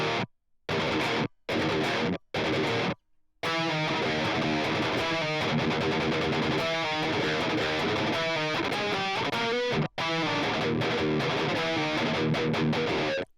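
Heavily distorted electric guitar played through an HX Stomp into a Helix with a hard noise gate: short stabbing bursts chopped off into dead silence, then a long sustained run of riffing, with abrupt gated cutoffs.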